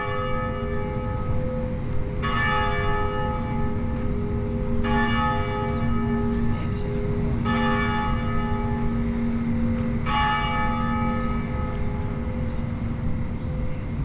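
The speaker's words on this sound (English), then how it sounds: "they're ringing the heck out of that bell" A large church bell in Birmingham, Alabama tolls repeatedly at slow, even intervals, each strike ringing out with long resonant overtones over a steady low rumble.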